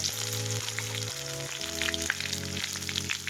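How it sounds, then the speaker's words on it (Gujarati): Garlic hitting hot oil, a dense steady sizzle up close with no talking, while a tonal hum, probably music, plays underneath. "હવે આપણે નાખીશું તેલમાં હવે લસણ નાખીશું"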